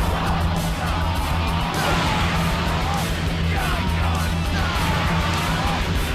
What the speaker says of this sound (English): Sound effects like key attacks and characters shouting don't sound good either, as they often overlap each other, so you'll hear multiple voice lines at the same time